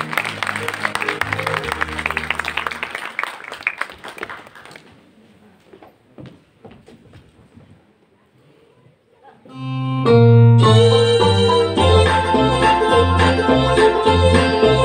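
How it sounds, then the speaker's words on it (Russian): At a kindergarten's International Family Day event, an audience applauds the senior group's children for about five seconds, mixed with some voices. The clapping fades into near-quiet, then loud music starts and carries to the end. "Поприветствуем их бурными аплодисментами"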